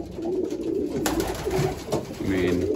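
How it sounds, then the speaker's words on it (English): A racing pigeon in a loft coos in a low, throaty rolling call, close by and clear, with faint voices in the background. "But it was cooing just like a cock."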